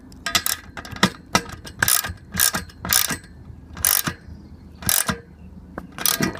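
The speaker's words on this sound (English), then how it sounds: "Just tighten this down a little bit just till it's snug." A wrench ratchets in quick repeated bursts, tightening a bolt on a leg of a ShelterLogic Monarc canopy, each run of clicks close and crisp with short pauses between.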